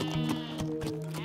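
A sheep bleats in a run of wavering, tremulous calls across just over a second, close and fairly loud with no talking over it.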